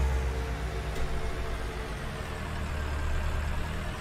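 A tractor engine idles steadily in Farming Simulator 19, a continuous low droning hum with no breaks, loud and close throughout.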